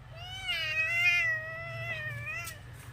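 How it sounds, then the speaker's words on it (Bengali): A house cat meows close by in a drawn-out, wavering cry with a second shorter call after it, over a low background hum. "এই যে আমার বিড়াল"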